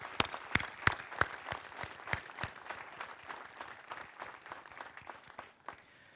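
Audience applause at a military police battalion change of command ceremony, a spread of claps with a few sharp near ones standing out early, steady at moderate level and thinning toward the end, no talk.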